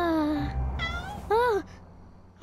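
A cartoon cat meows three times in a Malay-language children's cartoon. The meows are clear and close, with short gaps between them, and the last one rises and falls in pitch.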